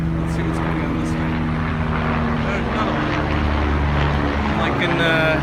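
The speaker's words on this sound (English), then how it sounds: "wow, more helicopters" Helicopters passing overhead near a home pool, a continuous loud, droning rotor and engine rumble with steady low tones filling the whole stretch, while a person speaks underneath.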